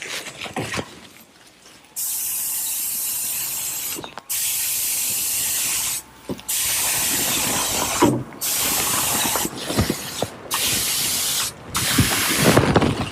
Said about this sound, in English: high volume, low pressure gun, which means it takes very little air to drive it, and most of the paint will end up on the project